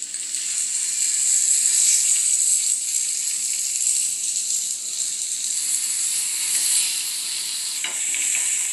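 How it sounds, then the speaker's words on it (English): Veal shank pieces for osso buco searing in a hot pan, a steady loud sizzle with bright crackling hiss that holds throughout, with faint utensil clicks near the end. "While the veal shank is searing"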